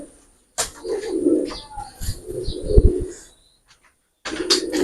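Pedigree pigeons, a pair of imported show birds, give soft, low throaty coos in two close bursts separated by a short silence.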